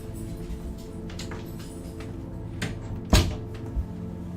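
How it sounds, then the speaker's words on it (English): A door shuts at home with a single solid thud near the middle, then a softer knock shortly after, over a steady low room hum. "Somebody's home, so I'm going to close the door here"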